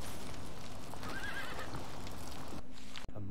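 Horse whinnying in the video game prototype Steed, a drawn-out neigh with clip-clop hoofbeats over a steady game soundscape, near and fairly loud, with a brief dropout near the end.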